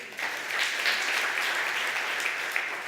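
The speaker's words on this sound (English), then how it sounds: "Please applaud if that's true for you." An audience at a public-speaking conference talk breaks into applause: a fairly soft, continuous wash of many hands clapping from the room, steady for a few seconds with no voice on top.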